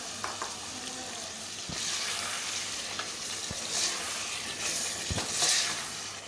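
Mutton stock poured into spiced potatoes frying in a pan for aloo gosht makes a steady close sizzle and hiss that swells in bursts, with a few sharp scrapes of stirring.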